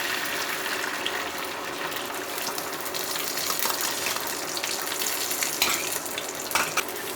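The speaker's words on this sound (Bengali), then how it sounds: "ডিমটা আমরা ভেজে নিচ্ছি।" An egg fries in a pan, giving a steady wet sizzle with occasional stirring scrapes and small bursts of spattering.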